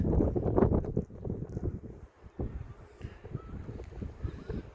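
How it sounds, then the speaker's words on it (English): Gusty wind on the Dublin coast buffets the microphone with low rumbling bursts, strongest at the start and easing into steadier blustery noise. "Apologies, I know it is windy."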